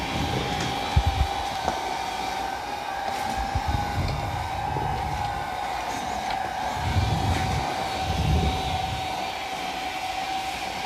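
A robot vacuum, a Dreame L40 Ultra or Roborock Q Revo Curv, runs in mopping mode, giving a steady close whirring hum with a constant tone, occasional soft bumps and low thumps as it moves.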